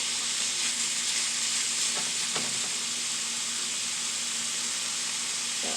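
Tomato beef frying over high heat in a pan gives a loud, steady sizzle and hiss throughout, with a few brief stirring scrapes and no talking.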